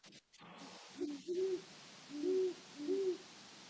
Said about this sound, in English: Okay, 2 owls.